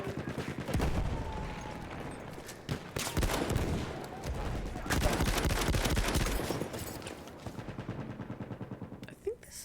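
A long-recoil shotgun fires in Battlefield 1, with heavy, dense gunfire filling the scene and repeated loud blasts over a continuous battle din, mostly close and overlapping, easing slightly near the end.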